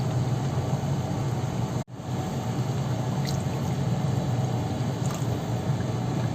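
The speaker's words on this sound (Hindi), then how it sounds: "अब हम इसके अंदर डालेंगे पानी।" Water is poured into a pot of well-fried chicken korma masala, making a steady, loud rushing pour with a brief break near two seconds before it continues evenly.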